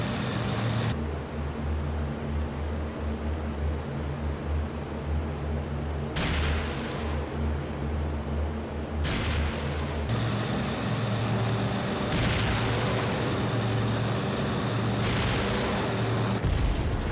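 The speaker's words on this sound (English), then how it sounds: "That was 6 rockets." P-38 fighter in the IL-2 flight sim firing rockets at small buildings, a loud continuous engine drone broken by several sharp rocket launch bursts and booms.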